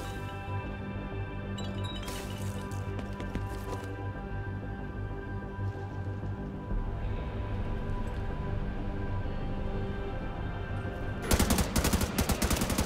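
Gunfire rings out through a tactical shooter battle in The Division 2 beta at the FBI headquarters, with a steady layer of game sound and a dense, loud burst of shots near the end.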